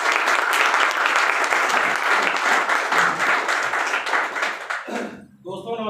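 A hall audience bursts into loud, dense applause for a guest at an AWPL gathering, clapping steadily for about five seconds before it cuts off and a voice begins speaking.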